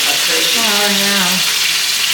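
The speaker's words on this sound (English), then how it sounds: "we'll let the beef crisp up just a little bit" Ground beef frying in a pan, a loud steady hiss of sizzling fat, with a voice speaking over it briefly.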